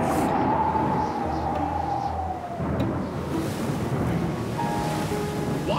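Cold north wind gusting over the open ocean in a cartoon, a steady loud rush of wind with rolling surf and a faint howl sweeping through, no talking.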